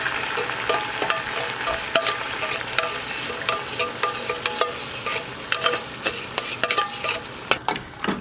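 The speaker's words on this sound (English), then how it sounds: "you can add in your coconut milk" Coconut milk is stirred into a simmering Khmer coconut milk soup, Machu Kreung Ktiss, giving a steady close bubbling sizzle broken by frequent light spoon scrapes and clinks against the pot.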